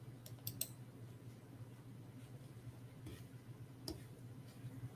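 A computer mouse clicks while screen sharing is being set up: a quick cluster of faint, sharp clicks near the start and a single click later, over a steady low hum in a quiet room.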